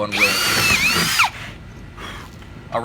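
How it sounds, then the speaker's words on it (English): A power drill boring holes in a wooden board, a loud whining burst of a little over a second with rising and falling pitch, followed by quieter handling and the start of another short whir. "I'm going to drill a couple holes in the board"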